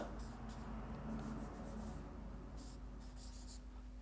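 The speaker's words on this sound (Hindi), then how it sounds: "यहां पे हम लिख दे रहे हैं डा और" Chalk or marker scratching letters on a board during a Hindi alphabet lesson, a few faint short strokes heard under a steady room hum.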